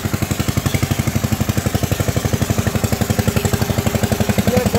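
Eicher 188 tractor engine pulling a disc harrow, a steady, loud, close single-cylinder-style chugging with rapid even thumps and metallic clatter throughout, no voices.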